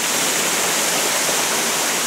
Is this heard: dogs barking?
no